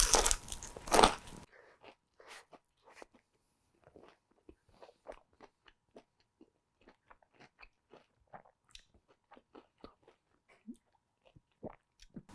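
A loud crunchy bite into Cinnamon Toast Crunch-coated coconut shrimp, then quiet, close chewing with scattered soft crunches.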